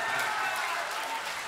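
A crowd at an All India Mushaira poetry gathering in the Muslim Library Cultural Hall, Bhandara, gives a brief, dense burst of hand clapping, loud and continuous from start to finish.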